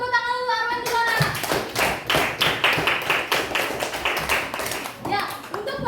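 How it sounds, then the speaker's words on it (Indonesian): Schoolchildren in a classroom clap in a quick rhythmic burst of a dozen or so claps, close and lively, with children's voices before and after. "kalau bisa tepuk tangan dulu Arwen dulu anak."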